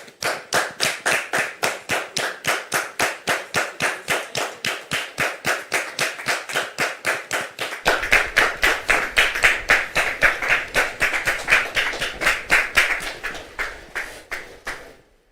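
A French TV studio audience claps in unison to welcome guests, with sharp, evenly spaced beats about three per second that swell louder halfway through before fading.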